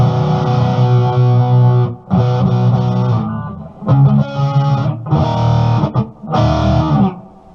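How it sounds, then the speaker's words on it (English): Distorted electric guitar on the neck pickup, overdrive bypassed, with a warm, rounded tone plays several sustained chords and notes, separated by brief pauses. "I'll just go with a little distortion here."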